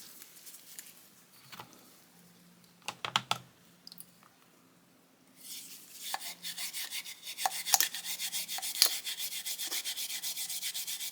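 A piece of t-shirt soaked in mineral spirits, wrapped around a nylon brush, rubs a Millers Falls No. 5 metal tool holder: scattered taps and scrapes, then steady close scrubbing strokes in a quick rhythm.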